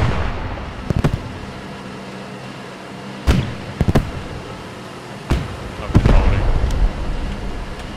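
In the Post Scriptum video game, a Panzer IV battle on the Driel map brings sharp, loud gunshot and cannon-like bangs at irregular intervals, some in quick pairs, over a quiet background with voices talking at times.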